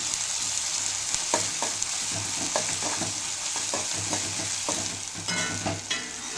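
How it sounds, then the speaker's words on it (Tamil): Onions roasting in a pan for chicken biryani, a steady close sizzle with frequent spatula scrapes and taps against the pan in an irregular stirring rhythm, no voices. "இதில் நமக்கு வந்து ஆனியன் நல்லா ரோஸ்ட் ஆக வேண்டியது ரொம்ப முக்கியம்"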